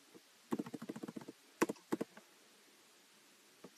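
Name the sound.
typing a record type name on a keyboard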